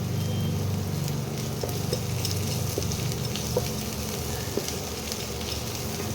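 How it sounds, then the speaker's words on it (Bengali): Four cloves of chopped garlic frying in a pan with boiled eggs, a steady close sizzle with occasional small crackles and a faint low rumble underneath. "এবার এই রসুনটাকে একটু ভাজা ভাজা করতে হবে"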